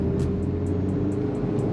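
A Maruti Suzuki Baleno AMT with a 1.2 litre engine pulls away under throttle, a steady low engine drone heard from inside the car with a faint rhythmic ticking on top, no talk.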